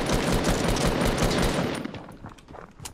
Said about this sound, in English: Wait, was that a pistol?